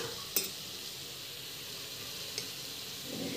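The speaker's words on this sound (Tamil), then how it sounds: "இந்த பச்சை வாசம் போடுறது நல்லா வதங்கணும்." Masala with salt and chili powder sizzles faintly in a pan, with one sharp utensil tap near the start and a soft clink later. The cooking is quiet and close, with no speech.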